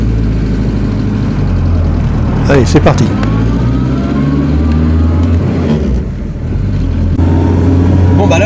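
A Renault 4CV's rear engine idles steadily with its cooling fan running constantly, then revs as the little car pulls away. A voice speaks briefly near the start, and the engine drone stays loud and close throughout.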